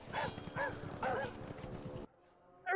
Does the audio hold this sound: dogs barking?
yes